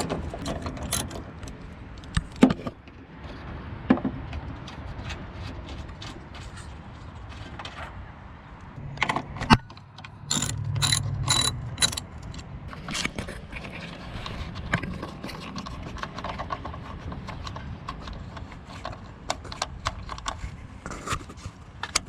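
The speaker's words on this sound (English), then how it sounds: "Now we get the bolts out" Ratchet removing 10mm bolts holding the headlight of a 2008 Ford F150, heard as quiet intermittent mechanical clicks and creaks with a short louder burst of rapid ratcheting near the middle.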